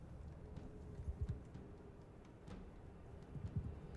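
Sumpter horse hooves in the Bannerlord video game clop in uneven clusters at moderate distance over a low ambient background, with no speech.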